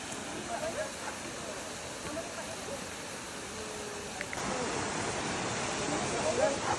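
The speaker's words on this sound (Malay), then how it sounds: "Ini air terjun Kuak Hitam." The Kuak Hitam waterfall gives a steady, even rushing roar that fills the whole stretch and grows slightly louder toward the end.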